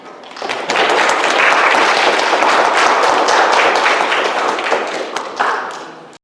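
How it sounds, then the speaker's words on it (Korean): Church congregation clapping to welcome the pastor at a Sunday service, a loud, dense burst of applause that swells in quickly, holds steady and tapers off near the end. "이한 목사님 나오실 때 우리 박수로 환영하겠습니다."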